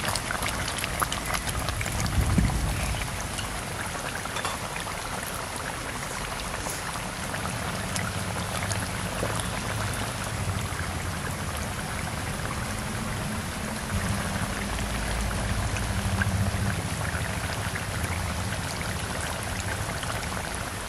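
A thin Urala river fish curry from the Damodar river boils hard in a pot while being stirred, a constant bubbling, gurgling simmer with a few low scrapes of the spoon.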